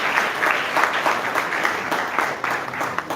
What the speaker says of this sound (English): Give a big round of applause to Vaibhavi Sirsat